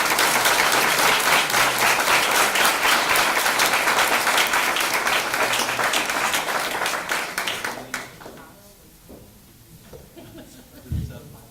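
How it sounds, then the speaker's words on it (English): An audience at a board meeting applauds loudly with dense, continuous clapping for about eight seconds before it thins out and fades into quieter room sound. "Let's give her one more round of applause"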